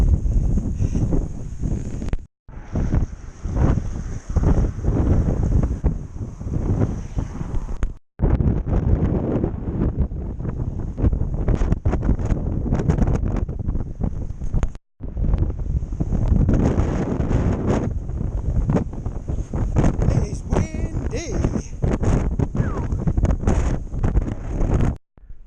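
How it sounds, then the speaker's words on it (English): Strong wind buffeting the microphone on a rainy outdoor walk, loud continuous roaring gusts with brief drops to near silence, no talking. "that was a fairly unpleasant walk in the wind"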